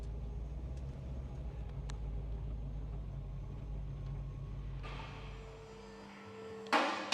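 A 1965 Ford Mustang restomod with a 302 cubic inch, 330 bhp V8 rolls over a speed hump, its low engine rumble steady throughout, with a louder rush of noise partway in and a sharp bump near the end.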